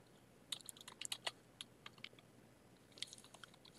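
Typing on a computer keyboard: faint, light key taps in small irregular bursts, with quiet gaps between them and no talking.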